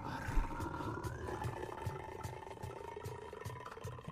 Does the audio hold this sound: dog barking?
no